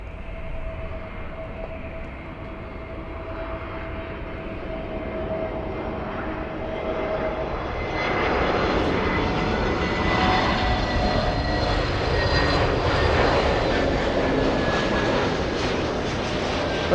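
A Delta Air Lines Airbus A319 jet roars near LAX airport, its engine noise steady at first and then swelling louder from about eight seconds into a sustained, close rumble.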